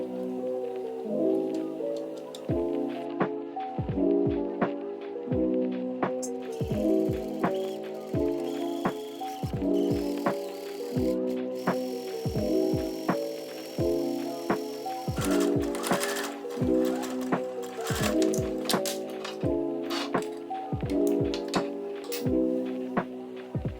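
A sewing machine stitching the strap of a Rapunzel princess costume, run at close range as a steady, rapid mechanical clatter of needle strokes in short bursts separated by brief pauses.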